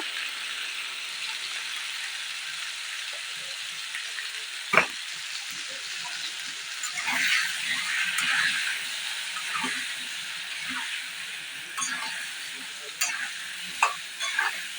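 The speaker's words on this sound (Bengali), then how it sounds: "হলুদ দিয়ে আমি আলুটাকে সুন্দর করে ভেজে নেব" Potatoes seasoned with turmeric and salt frying in oil, a steady soft sizzle running throughout with occasional stirring scrapes and clicks of a utensil against the pan.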